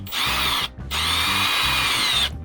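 Loud whine of a Milwaukee power drill driving self-tapping screws into a stone crab trap, running in two bursts, a short pause between them, the motor pitch holding steady as it drives.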